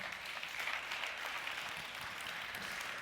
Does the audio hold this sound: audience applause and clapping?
yes